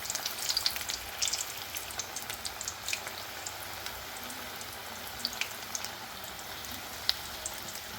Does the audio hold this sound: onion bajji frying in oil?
yes